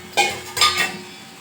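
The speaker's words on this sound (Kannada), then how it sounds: "ಇಷ್ಟೇ ಇದು ಮಿಕ್ಸ್ ಮಾಡೋದು ಒಗ್ಗರಣೆಗೆ" A spoon stirs a tempering into coconut chutney in a metal vessel, giving two sharp clinks and scrapes close by with a faint background hum.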